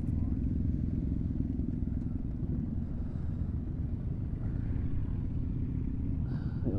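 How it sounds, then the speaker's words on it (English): Several motorcycles ride together on a charity toy run at Calder Park, a steady close engine rumble and drone running throughout with no break. "Couple of bikes here."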